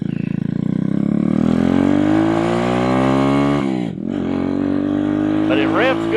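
An RPS Racer Nibbi PE26 motorcycle engine revs up with a climbing whine, dips sharply, then climbs again in a second loud rev, close and unaccompanied; its carburetor may be running lean.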